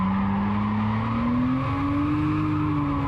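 A car drifting on throttle after a clutch kick, its tires spinning and squealing in a loud continuous screech that slowly rises in pitch over the steady engine roar.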